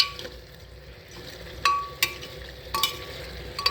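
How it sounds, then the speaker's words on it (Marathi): Mutton with turmeric and salt being stirred and sautéed in a pan, a soft sizzle under intermittent sharp clinks of a spoon against the metal, close and moderately loud. "असं असं परतून घ्यायचं हळद मीठ टाकून."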